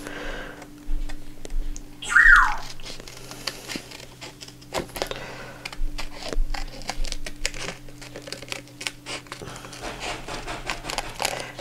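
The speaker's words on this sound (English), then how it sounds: "I'm going to take my scissors and I'm going to fussy cut right around that bridge." Scissors fussy-cut around a bridge picture on a recycled Christmas card, giving a steady run of small close snips and crinkles of card stock over a faint background hum.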